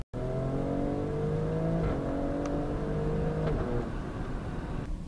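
Alfa Romeo Stelvio Quadrifoglio, 510 hp, accelerating hard with its automatic gearbox snapping through quick upshifts, the engine note climbing then dropping at each change, loud and close with no talk over it.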